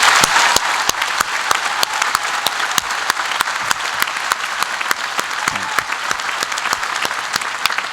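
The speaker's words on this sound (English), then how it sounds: "Let's give a big applause." Audience at a Babson College commencement ceremony for the graduating class applauds steadily, dense sustained clapping from a large crowd throughout, with no voices over it.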